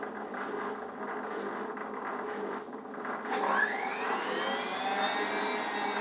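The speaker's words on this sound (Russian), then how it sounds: "Стиральная машина Whirlpool VG908E. Ставлю отжим." A Whirlpool washing machine hums steadily, then its motor whirs up abruptly with rising whine and rushing noise as the drum begins to spin fast on the spin cycle.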